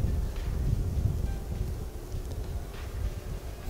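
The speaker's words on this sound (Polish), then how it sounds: "Wiatr trochę dokucza, wiesz?" Gusty wind buffets the microphone outdoors, low rumbling blasts that rise and fall in uneven surges, fairly faint overall.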